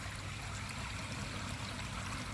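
Water spills steadily from a pipe-fed rockwork waterfall into a natural garden pond, making a continuous soft rushing and trickling with no voices.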